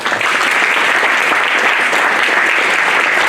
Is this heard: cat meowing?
no